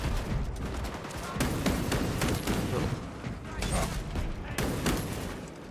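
Auto gunners firing in a Space Marine video game, with dense, continuous rattling bursts and heavy mechanical clatter layered over a loud battle din, punctuated by sharper impacts.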